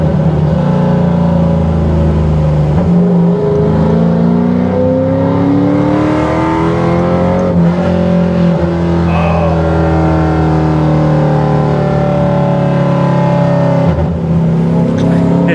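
A loud V8-style engine revs repeatedly, its pitch climbing and falling in long sweeps, close by and throaty.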